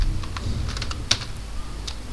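Close computer keyboard typing while writing C code, a quick irregular run of light key clicks with one sharper tap, alone without speech.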